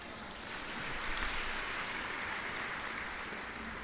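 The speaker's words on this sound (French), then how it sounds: "On peut l'applaudir pour lui." A church congregation applauds the pianist during a service, a dense, steady patter of many hands clapping at moderate volume for a few seconds, with no speech over it.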